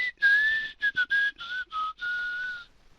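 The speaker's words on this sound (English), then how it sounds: "It's really weird when you whistle like that." A person whistles a short wavering melody, close and clear, in several quick bursts and then one longer held note, with no talk over it.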